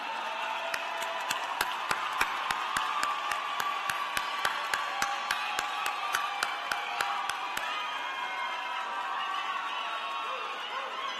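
A large audience at North Carolina Central University's graduate and professional commencement claps steadily in sustained applause for standing graduates, a broad even roar of hands with a few cheers, fading slightly toward the end.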